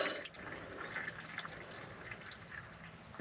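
Water and oil draining from the engine of an old 1964 John Deere bulldozer, heard as a continuous trickling, splashing pour with faint drips, moderately close and steady, with no talk.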